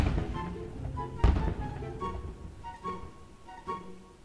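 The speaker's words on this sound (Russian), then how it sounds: "А вот теперь будет самый эпичный салют в этом паке." Fireworks going off in the video game Garry's Mod, with one heavy muffled thump followed by softer, scattered pops and thuds over a steady tonal background.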